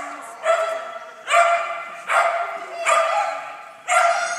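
A dog barks five times in a fairly regular rhythm, each bark sharp and close, with brief pauses between them and no talking.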